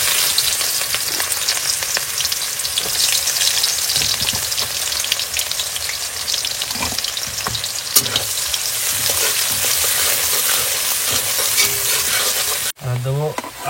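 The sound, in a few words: chopped onions frying in hot oil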